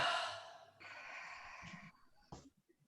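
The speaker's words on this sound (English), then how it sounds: "So breathing in." A person takes a deep, audible breath in during a guided relaxation exercise, a close airy inhale that tapers off into quiet breathing.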